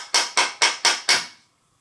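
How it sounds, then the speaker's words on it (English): Five evenly spaced, sharp hammer taps on a cutter of a woodworking marking gauge to adjust its setting, crisp and close, decaying quickly into quiet. "So I'm adjusting it just by hammering it back and forth."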